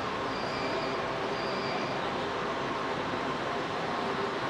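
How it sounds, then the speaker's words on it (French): Kuala Lumpur metro train running, a steady broadband rumble and rush of the carriage with faint high tonal whines, continuous and close throughout with no pauses. "Allez, je prends le métro."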